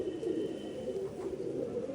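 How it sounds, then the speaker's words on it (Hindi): A pair of domestic pigeons coo close by in low, continuous, throaty murmurs with no voices over them. "कबूतर, देखिए"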